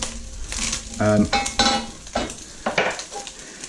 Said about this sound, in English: So once that's nicely browned, remove it off, take it out of the pan.